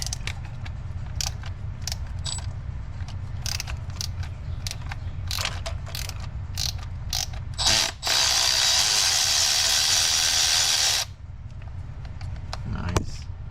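A ratchet wrench clicks rapidly while removing a bolt on a 2003 Chevy Cavalier, close repeated ratcheting over low background noise, interrupted by a few seconds of harsh hissing noise.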